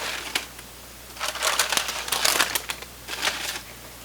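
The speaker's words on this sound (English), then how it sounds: "So we'll just remove this parchment paper here." Parchment paper being peeled off solidly frozen eggs in a muffin liner, close crinkling and papery crackles in irregular bursts over a quiet background.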